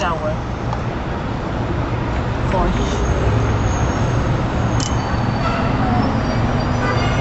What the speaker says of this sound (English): this is rush hour we're heading into. so the traffic gets quite slow.